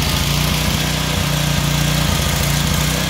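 A small engine lubricated with vegetable oil instead of motor oil idles steadily nearby, a loud, rough, rhythmic low chugging with a constant mechanical drone and no speech.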